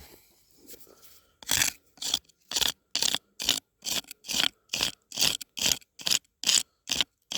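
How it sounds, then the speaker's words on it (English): Dirt is scraped toward the camera with a tool while metal detecting, a series of about fourteen rhythmic, close, gritty scrapes after a quieter opening rustle. "I'm scraping everything towards the camera and then pushing it over the edge"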